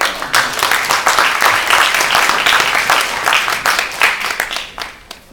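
Loud, dense applause from an audience welcoming a speaker to the stage at a Ukraine disinformation event, continuous clapping throughout before tapering slightly at the end.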